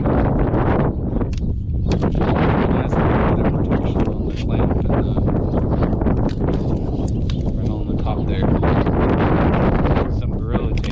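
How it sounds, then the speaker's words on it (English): Strong wind gusts buffet an outdoor microphone near a Starlink dish, producing a constant rumbling roar with heavier bursts throughout, while a voice talks under the wind. "We're going to have wind for the next couple days"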